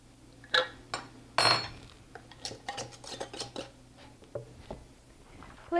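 Small glassy clicks and scrapes, a metal lid twisting and grinding onto a glass canning jar of applesauce in short, close turns.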